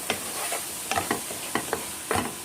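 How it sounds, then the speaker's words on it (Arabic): Minced meat frying with salt and spices in a pan, a steady soft sizzle broken by repeated scraping stirs of a spoon, close and fairly quiet. "وهنحط شويه ملح علشان تفرفر معايا اللحمه المفرومه"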